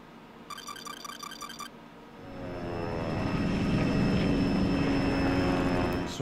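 Aircraft engines in the shoot-'em-up video game Sine Mora EX, a brief chiming blip, then a droning roar that swells in over a couple of seconds and holds loud and steady.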